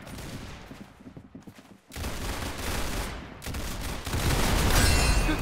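Gunfire in the Roblox game Arsenal comes in dense, rapid bursts that pause briefly, then build again to loud, sustained shooting.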